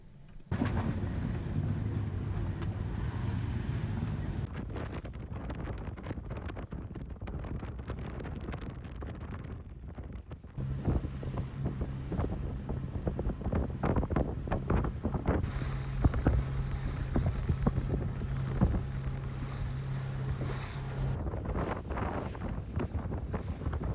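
A sailboat sails north along the island of Suduroy in the Faroe Islands. Steady wind rumbles and buffets the microphone, with water rushing along the hull throughout.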